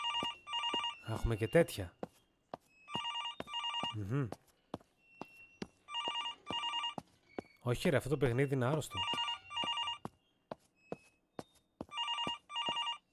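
A telephone rings in the horror video game INFliction, sounding in repeated electronic bursts with short gaps between them, while someone talks and reacts over it in a few spots.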